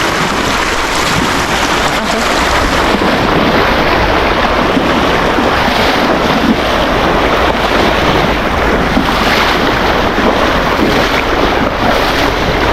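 Strong river current rushing around a fishing boat, a steady loud broadband wash of water with wind buffeting the microphone throughout, no voices.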